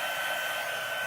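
A heat gun blows steadily while embossing powder is heated on a journal cover, a constant close airy whir with no break.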